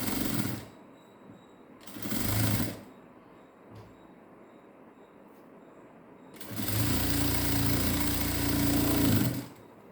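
Electric sewing machine stitching an embroidered diamond necklace design, running in short loud bursts with pauses between, then a longer steady whirring run near the end.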